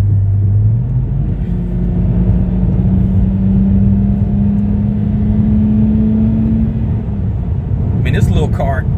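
A 2011 BMW 328i engine drones loudly from inside the car, its pitch climbing steadily as it accelerates and then settling, with a brief clatter near the end.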